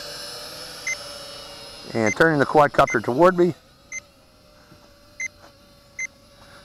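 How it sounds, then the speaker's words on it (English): Drone control app sounding its headless mode alert for a Yile S16 Spider folding FPV camera quadcopter: a quick run of about eight shrill electronic beeps, then a few short isolated chirps, with someone talking over the first part. "You get the annoying beep, headless mode beep."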